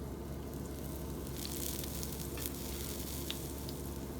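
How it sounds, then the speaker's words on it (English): Garlic sizzles in a frying pan with a steady, close hiss that stays even and unbroken throughout, with no one talking. "Garlic goes in the pan."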